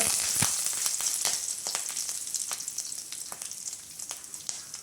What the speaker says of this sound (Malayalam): ഇതിലേക്ക് വറ്റൽമുളക് ഇട്ട് കൊടുക്കുക, കറിവേപ്പില ഇട്ട് കൊടുക്കുക.